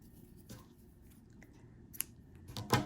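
Scissors snip through a strip of white yarn in several quiet, sharp cuts, the last ones louder and close, over a soft background hum with no talk.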